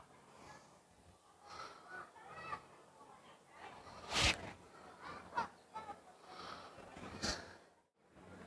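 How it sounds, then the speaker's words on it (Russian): Birds call near the ancient port of Caesarea: scattered honking cries, a few loud and close, others faint, over quiet outdoor background with soft, indistinct voices. "Птицы."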